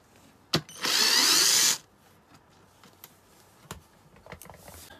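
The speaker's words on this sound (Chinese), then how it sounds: "我们首先把这个螺丝给它拆掉" A power screwdriver spins out a screw from a rice cooker casing in one loud, steady whirring burst of about a second, preceded by a click and followed by quieter taps and handling noises nearby.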